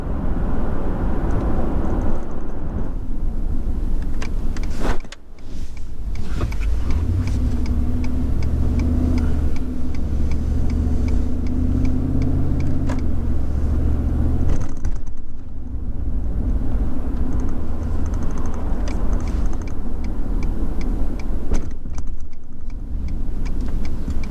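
Car coasting on a highway exit after cruise control is switched off, a steady loud road and engine drone with low rumble, a couple of brief dips, no talking.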